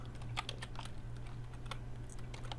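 Rapid, steady typing of code on a computer keyboard, with quick key clicks over a low constant hum.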